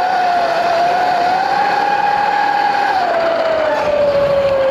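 A Sur-Ron electric dirt bike accelerates on snow, its motor whine rising steadily in a smooth continuous tone that dips slightly near the end, loud and close with no talking.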